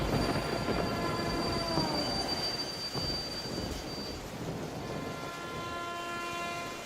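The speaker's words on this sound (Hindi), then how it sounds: "रेलवे स्टेशन पर आखिरी ट्रेन आई।" A train pulls into a railway station, with wheels squealing shrilly against the rails over a continuous rumble. A horn-like tone holds through the first half, all fairly loud and without speech.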